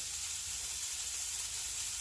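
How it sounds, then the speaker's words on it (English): Steady, soft sizzling of asparagus frying in a pan, an even crackling hiss with no voices. "we're just going to let it sit here and sizzle until it gets nice and brown on one side"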